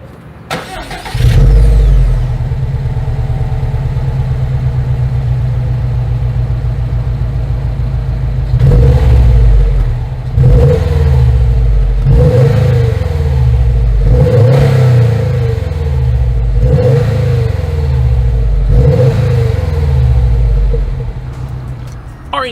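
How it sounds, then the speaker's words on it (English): A 2020 Subaru WRX STI with a quad-tip exhaust starts up and settles into a deep, rumbling idle, then is revved repeatedly in a series of sharp, rising blips that fall back each time, loud and close. "here is that exhaust clip"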